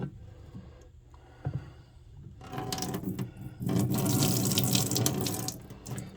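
Mud and rusty water pour out of a Corvette C4 coolant tank into a scrub sink, a soft start that swells into a steady, splashing gush of liquid, close and fairly loud, with no talking.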